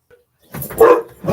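Dogs bark indoors in two short close bursts, loud and sharp, with a brief pause between them.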